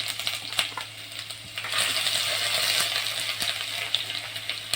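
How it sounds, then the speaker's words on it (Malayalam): Fenugreek seeds frying in hot oil for a coconut fish curry, a steady close sizzle with small crackles and pops all through, swelling a little after the first couple of seconds, with no voices. "ഉലുവ ഒന്ന് മൂത്ത് വരട്ടെ"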